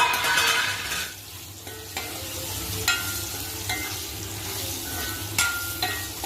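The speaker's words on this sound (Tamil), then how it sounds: "இப்போ நல்லா உளுத்தம் பருப்பு ஆயாச்சு கட்டி வச்சிருக்கிற இந்த நேந்திரம் பழத்தை போட்டு விடலாம்" Slices of Nendran banana fry with urad dal in a pan, giving a soft continuous sizzle with intermittent clinks and scrapes from stirring.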